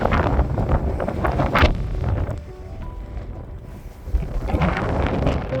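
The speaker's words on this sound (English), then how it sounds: "The wind picked up even more." Strong winter wind in the mountains at Hemavan in early February, roaring in loud sustained gusts that buffet the microphone, easing briefly in the middle and then rising again, with no talking.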